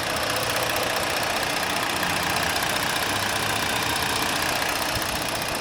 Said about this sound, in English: Engine very healthy, very smooth, very quiet